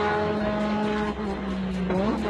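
Ayrton Senna's Formula 1 race car, a Lotus, runs along the straight. Its engine holds a loud, steady high-pitched note that briefly dips and then climbs again, with faint commentary-like voice beneath.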